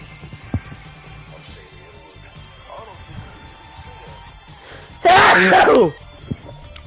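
One loud, sharp sneeze bursts out close by during an indoor game stream, standing well above the faint background for under a second.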